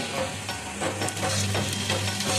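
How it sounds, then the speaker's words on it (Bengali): Onions sizzle and fry in a hot pan, a steady crackling hiss with occasional stirring scrapes, close and continuous. "পেঁয়াজটা বসিয়ে দিয়েছি"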